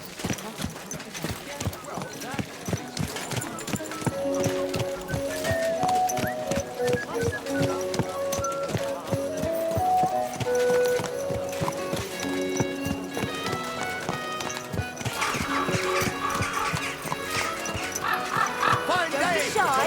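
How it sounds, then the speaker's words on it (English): Horse hooves clip-clop in a steady rhythm during riding in the video game Kingdom Come Deliverance 2, heard under game music, a barking dog and voices talking throughout. "Is this your first time riding a horse, you moron?"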